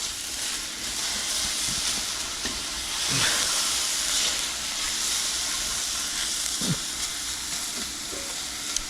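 Ingredients for a rustic tomato soup toast in a hot pan with a steady, close sizzle and hiss that runs throughout, broken by a couple of brief stirring scrapes around the middle and near the end.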